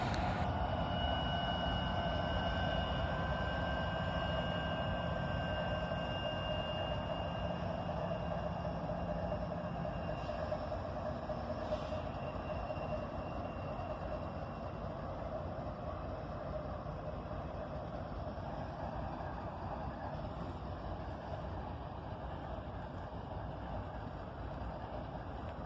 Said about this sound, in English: This 4-locomotive Norfolk Southern train came in slow and stopped with its engines on the bridge right